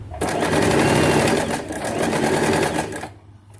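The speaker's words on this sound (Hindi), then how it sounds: "इसे बराबर करके इस तरह से सिलाई।" A sewing machine stitches a straight salwar, its rapid mechanical chatter running loud and close for about three seconds before slowing to a stop.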